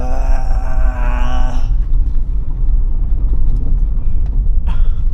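A GWM Tank 500 SUV rolls over gravel with a heavy, continuous low rumble of tires and road noise. A louder engine or drivetrain hum fades out early and briefly returns near the end.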